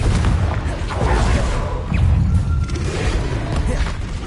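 Confringo blasting spell explosions in the video game Hogwarts Legacy on PS5, a dense run of low booming blasts and crackling bursts that roll on continuously and loudly with no pause.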